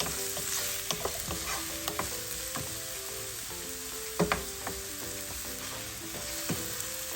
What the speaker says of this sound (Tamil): வெங்காயம் வந்து ரொம்ப வதவ வேண்டாம், நார்மலாக வதவுனாலே போதும்.